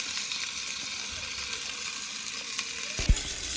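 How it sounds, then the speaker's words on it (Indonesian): Dried rice stirred and fried in a claypot for Hong Kong-style claypot rice, giving a steady, soft sizzling hiss with faint scraping from the stirring and one sharper knock near the end. "beras yang sudah kita keringkan tadi bisa dimasukkan dan dioseng-oseng"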